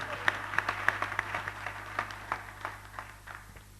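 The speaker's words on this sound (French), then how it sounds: "Acclamez le Seigneur pour cette a grâce" A church congregation applauding, a scattered, moderately faint patter of clapping that thins and fades out over a few seconds against a low steady hum.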